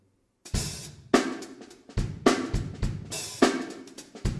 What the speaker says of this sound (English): This is some funky drumming.